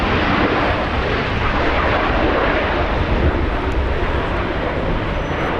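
A jet airliner at Los Angeles International Airport roars steadily as it passes, a broad loud rumble holding level for several seconds with no voices.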